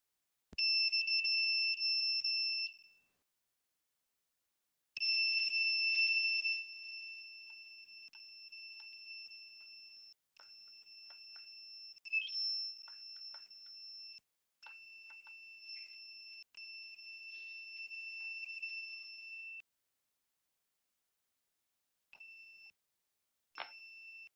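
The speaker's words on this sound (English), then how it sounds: "So it's continuously giving the buzzing sound." A buzzer on an embedded IoT development board beeping continuously, a shrill steady electronic tone in long stretches broken by short gaps and a few brief pips, close and clear with no talk.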